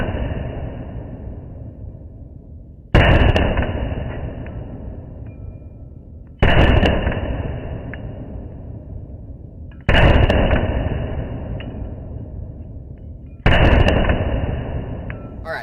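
A Bul Armory Tac Pro 4.25 pistol fired at steel targets outdoors: four loud shots spaced about three and a half seconds apart, each with a long echoing decay.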